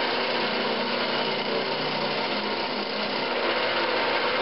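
Wooden vacuum chuck being hollowed on a wood lathe, with a steady, loud, continuous cutting hiss and whir throughout, no voices.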